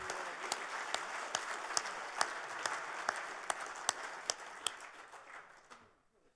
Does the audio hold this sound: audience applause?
yes